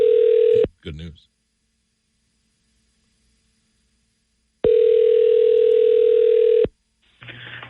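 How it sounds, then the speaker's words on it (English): Telephone ringback tone during a call placed on a country radio morning show: a steady buzzing tone cuts off, a voice speaks briefly, then after a silent gap a second two-second ring plays, followed by a short noisy burst. "going to dial the phone"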